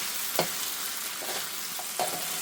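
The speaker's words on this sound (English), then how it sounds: "It's been a couple of minutes now, let's give it a stir." Chicken jalfrezi with coriander sizzles in a restaurant-style pan, a dense steady hiss with a few scraping stirs on top, close and fairly loud, with no talking.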